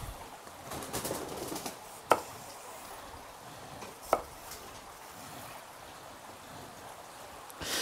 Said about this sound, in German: Schneiden wir jeweils oben und unten ab, halbieren den gerade.